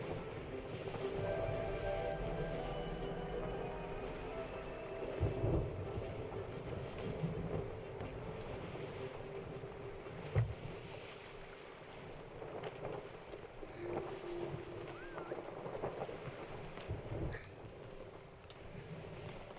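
A sailing ship in the game Sea of Thieves beats directly into the wind, giving a steady rush of wind and water noise with creaking and occasional thumps, quiet and continuous.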